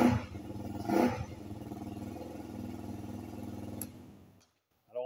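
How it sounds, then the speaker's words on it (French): A KTM 125 Duke four-stroke motorcycle engine rumbles steadily for several seconds with a brief swell early on, then cuts out into near silence before a short burst returns at the end. "C'est un ronflement que j'adore."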